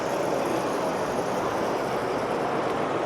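Tinplate model train circling a layout at a model train fair, giving a steady, even rolling rumble that stays level and fairly close throughout, with a broad hum of crowd and hall noise blended underneath.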